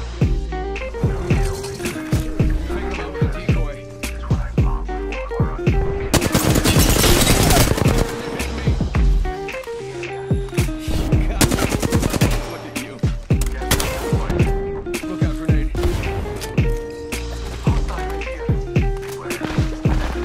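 Automatic and rapid gunfire from Apex Legends erupts in loud, dense bursts around a bunker fight, nearly continuous with sharp cracks and a heavy sustained barrage in the middle, and no talk.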